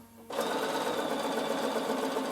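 A Bernina sewing machine stitches boiled wool for a coat, starting abruptly after a quiet moment and then running in a steady, fast, close mechanical whir and patter.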